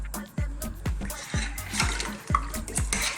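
In a pot of chopped tomatoes and lamb, water is added and stirred, with repeated clanking strokes and sloshing liquid in a loose, regular rhythm close by.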